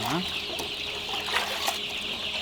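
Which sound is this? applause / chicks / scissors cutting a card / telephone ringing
chicks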